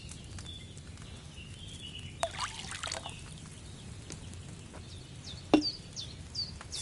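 Wine is poured into a cauldron in the medieval game Kingdom Come: Deliverance II, a soft, steady trickle of liquid with a few small knocks and splashes, quiet and close, with faint bird chirps in the background.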